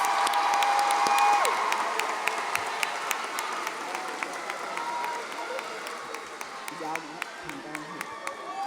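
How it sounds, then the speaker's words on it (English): A graduation audience applauds high school graduates at a ceremony, a broad wash of clapping and some cheers that swells at first and then gradually thins, with scattered sharp claps standing out toward the end. "Let's give them all one great big round of applause."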